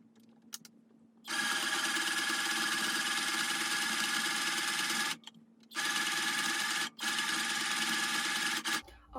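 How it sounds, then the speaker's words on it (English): A sewing machine runs a zigzag stitch along a sweater seam in a steady, close whirring hum, in three bursts separated by two short pauses. "I'm just going to sew a zigzag stitch along."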